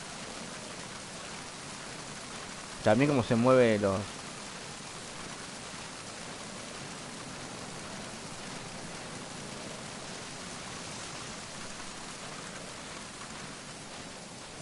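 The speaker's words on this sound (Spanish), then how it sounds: "topa el efecto ese de lluvia con viento, muy bueno lo que hace el juego" Steady wind-driven rain from the video game Metal Gear Solid 2 hisses evenly throughout, with a brief burst of speech near the start over the continuous downpour.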